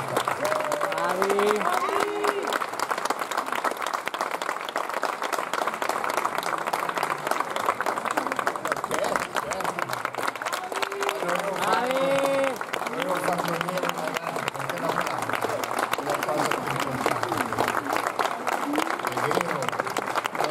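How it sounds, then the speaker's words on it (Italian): Applause from an audience after a children's musical fairy tale performance of Peter and the Wolf, a continuous patter of clapping with voices and chatter mixed in above it throughout. "un applauso per i ragazzi"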